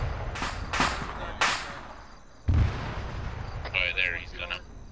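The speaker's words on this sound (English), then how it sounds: "Just give him cover, wait for it to explode." Explosions and heavy gunfire in the ArmA 3 combat game: several sharp booms in the first second and a half, a deep low blast midway, then scattered distant pops and whines, all loud and close.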